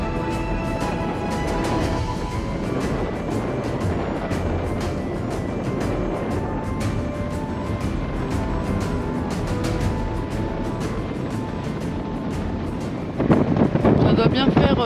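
A car drives across the dried, rough bed of the Aral Sea in Uzbekistan, a continuous engine and road rumble with rattling clicks and wind buffeting that grows louder near the end.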